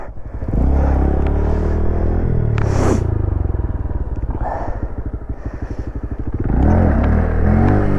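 A Yamaha FZ motorcycle engine rumbles close by at steady revs, with a brief higher rev partway through and a rise in pitch near the end, loud throughout.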